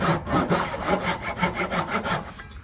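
Hand saw cutting a wooden tenon on an early-1800s loom, steady back-and-forth strokes of about two per second, close and fairly loud, with no talking.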